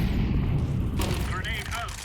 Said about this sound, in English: Incendiary out.